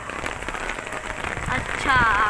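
Rain falling on surfaces in Lahore, a steady close patter of drops that thickens toward the end, with faint voices in the background.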